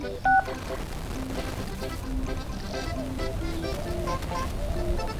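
Touch-tone dialing of a phone number: a quick run of short, clear DTMF beeps up close, one steady beep at a time, with faint background ambience and some voice behind it.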